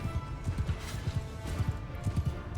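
Horse archers galloping across a battlefield in Mount & Blade II: Bannerlord, their hooves a rhythmic run of soft thuds, moderately faint and continuous.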